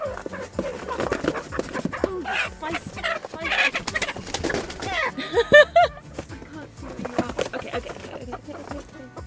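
Rescued chickens being placed into a straw-bedded chicken house, with clucking and fowl calls mixed among bumps and handling noise, fairly close, while people talk over them.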